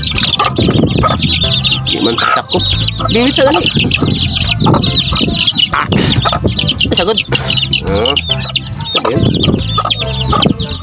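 White chickens and Green Legs hens cluck and squawk repeatedly throughout, with a person talking over the busy, close farmyard noise.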